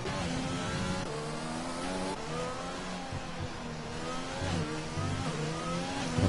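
A McLaren Formula 1 car in a racing video game laps the Baku circuit, its engine a steady, loud high-pitched whine that rises and falls with gear changes and throttle, with no one talking.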